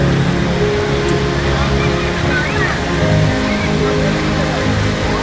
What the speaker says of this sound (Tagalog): Lantuyan, waterfalls.